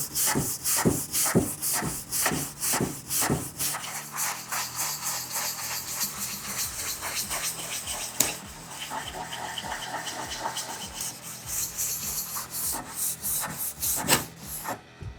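Rhythmic back-and-forth scraping of sandpaper by hand across a wooden furniture piece during professional wood restoration, close and steady strokes that pause briefly midway, with no talk over it.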